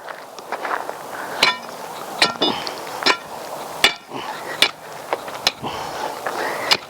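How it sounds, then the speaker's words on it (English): A crowbar strikes and pries into hard, compacted soil while a permaculture landscape is dug, giving sharp irregular impacts every half second or so, close and fairly loud, with scraping between hits. "Easiest way to break through it is with a crowbar."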